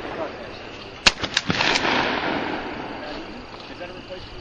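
Shotgun blasts during night skeet shooting outdoors, one sharp loud report followed by a few quicker echoing cracks, with a lingering rumble and noisy background.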